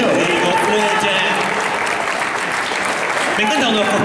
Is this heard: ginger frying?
no